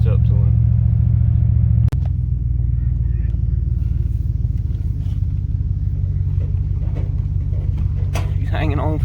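A junk Chevy Silverado truck rolling down a bumpy driveway, its engine a heavy steady rumble heard from inside, with a sharp jolt early on and people talking over the drone.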